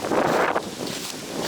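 Strong wind gusts through an autumn forest, a loud, rushing roar that buffets the microphone before easing into a steadier breeze.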